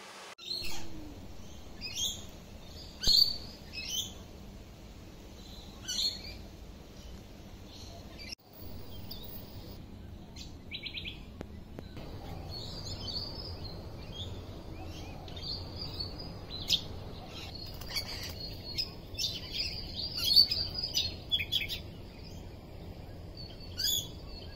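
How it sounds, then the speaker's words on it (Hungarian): Parrots and small birds call in tropical Cairns, Queensland, with repeated high chirps and short squawks scattered across a steady outdoor background, some close and some farther off. "A legtöbbet elég nehéz fölvenni, mert nagyon gyorsan repülnek, főként papagájok vannak."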